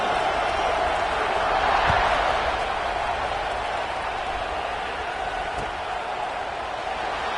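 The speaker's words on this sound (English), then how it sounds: "this crowd is buzzing after that last score" Football stadium crowd at Ohio State at Washington, a broad, steady roar of thousands buzzing after a score, swelling slightly early and then holding at a constant dense wash with no clear voices standing out.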